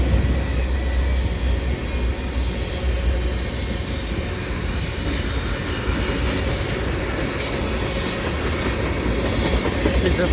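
A westbound CN freight train hauled by ES44AC locomotives rolls past nearby in a continuous loud rumble, with rail clatter and faint wheel squeal throughout and no voices.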